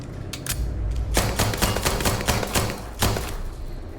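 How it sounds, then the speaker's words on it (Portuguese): Rapid bursts of gunfire in Starfield hit a metal safe, sharp repeated shots in uneven clusters, fairly loud with no talking. "Vários tiros no cofre."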